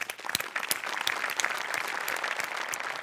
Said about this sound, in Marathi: प्रसाददा, नेहमीप्रमाणे सगळ्यात आधी मोठ्यांसाठी टाळ्या वाजवूया.